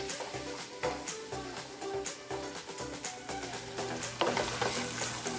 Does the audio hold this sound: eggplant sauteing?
yes